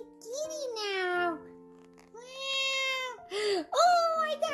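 A young child mimics a cat, giving several drawn-out, high, wavering meows with short pauses between them, close and clear.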